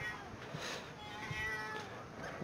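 A cat meows in a Fallout 4 game scene, a drawn-out, moderately faint meow over low background noise.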